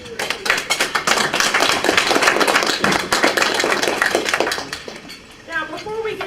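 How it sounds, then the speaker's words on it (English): At a Republican lunch gathering, a room of people claps for a fair booth volunteer, an uneven patter of hands mixed with clinking dishes and cutlery, fading briefly before picking up again, with some talk in the room. "You deserve a special round of applause for how you did the fair booth this year."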